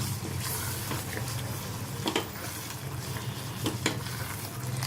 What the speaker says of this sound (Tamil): இதையும் நல்லா வதக்கி விட்டுக்கலாம்